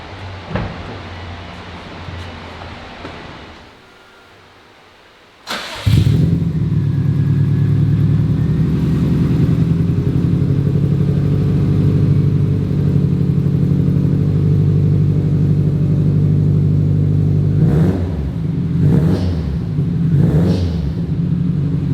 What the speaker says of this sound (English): we have the Invidia N1 race installed, so now it's time to fire it up